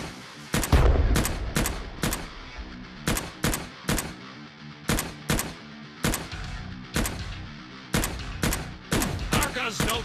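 Gunfire in Cactus Cowboy Plants at War fires as a fast series of sharp, evenly spaced shots, heavy and close, coming in short runs with brief gaps between, and no talking.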